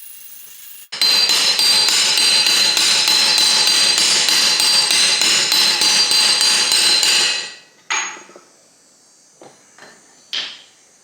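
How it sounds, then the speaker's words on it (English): A 30 mm socket is driven onto the prop shaft support bearing of an Audi A3 8P / VW Golf R: about six seconds of rapid, evenly spaced metallic impacts, loud and close, then a few separate lighter knocks. "I took a 30 mil socket and it slides over, and I'm just gonna hit it"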